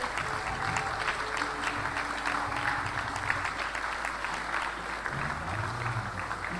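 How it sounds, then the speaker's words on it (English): A standing crowd at a medical graduation induction ceremony claps continuously and evenly throughout, a dense steady round of applause with a faint voice occasionally underneath. "A round of applause while standing."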